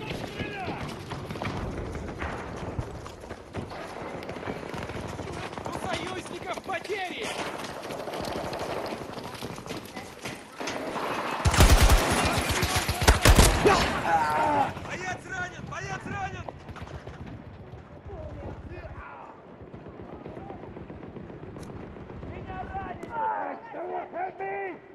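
Gunfire in Battlefield 2042 Portal during an infantry rush on PS5, dense bursts of shots and battle noise running under near-constant shouted team talk, with a louder cluster of fire midway.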